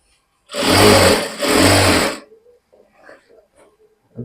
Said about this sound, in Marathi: अशा प्रकारे आपल्याला शेवटपर्यंत टिप मारून घ्यायची